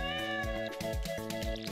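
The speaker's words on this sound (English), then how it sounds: "Let's just pet the cat." A cat in Stardew Valley meowing when petted, several short, loud, clear meows repeating at a regular pace over light game music, with no talking.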